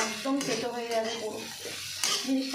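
Raisins sizzle as they are stirred in a pan over a medium flame while making flattened-rice pulao; a speaking voice runs over the close, steady frying.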